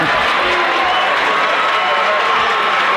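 A Highlands crowd at a high school basketball game lets out loud, mocking cheers and applause. The sound is a dense, sustained roar of many voices with scattered clapping, steady across the moment.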